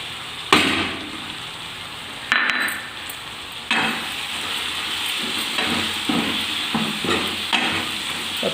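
Chili powder, turmeric and spices fry in hot oil for a tamarind drumstick curry. The pan sizzles steadily and loudly up close, broken by several scraping stirs of a spoon, with no talk.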